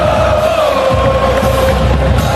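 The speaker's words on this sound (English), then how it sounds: "Full voice, this Florida State crowd." At a Florida State college football home game, the stadium crowd roars at full voice in a loud, continuous wall of cheering and yelling that stays level throughout.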